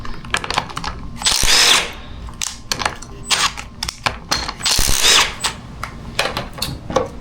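Power tool spinning loose a fork bolt on a Kawasaki KX250F motorcycle during a fork seal job, with two loud bursts of whirring and rattling impact against intermittent clicks and workshop clatter.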